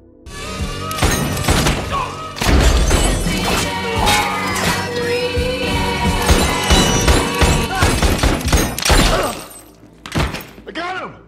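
Bursts of gunfire and crashing impacts fill a busy, dramatic action-film shootout, with music and shouting voices underneath throughout.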